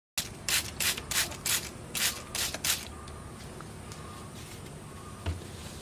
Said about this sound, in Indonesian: Semprot kembali dengan sedikit air.